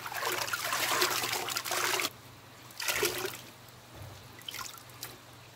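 Filter floss from a koi pond filter being rinsed in a bucket of water, giving bursts of trickling and splashing separated by short quiet pauses, close by and moderately soft, with no talk.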